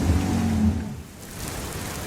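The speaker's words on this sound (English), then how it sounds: "Scattered showers are currently moving through the area." Rain shower with rumbling thunder over the sea, a deep low roll of thunder fading after about a second into steady hiss of falling rain, fairly close and with no voices.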